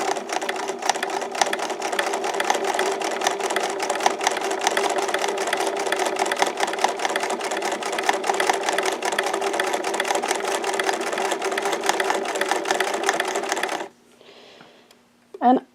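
A domestic sewing machine stitches up the side of a buttonhole, a fast, steady mechanical whir that runs loud and even for about fourteen seconds, then stops abruptly, followed by a brief faint clatter and a short burst at the end.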